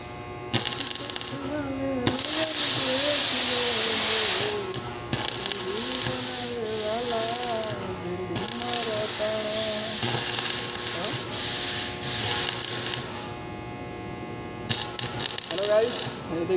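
MIG welding on a steel door frame under repair: a steady, close crackling sizzle that runs in several long stretches with short breaks, while people talk over it.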